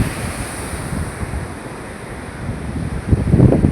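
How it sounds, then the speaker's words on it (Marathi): Loud, steady roar of a river in flood, seen from a bridge, with broadband turbulence and wind buffeting, swelling stronger toward the end, with no voices. "धो धो धो धो पाणी वाहत आहे पाहू शकता"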